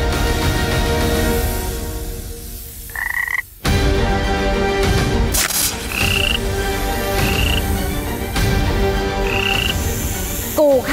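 Toads croak repeatedly in loud, close, rough pulses, with short sharp calls breaking through at intervals. No one speaks over the chorus.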